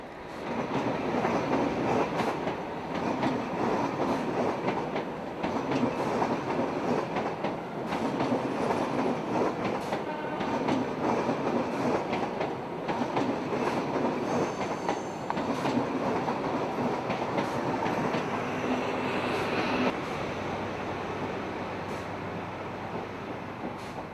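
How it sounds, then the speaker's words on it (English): An HST high speed diesel train rolls into Manchester Piccadilly station, its engine rumbling steadily under rhythmic wheel clatter over rail joints, holding fairly close and constant before easing slightly toward the end. "Here, a service from the south coast enters Manchester Piccadilly."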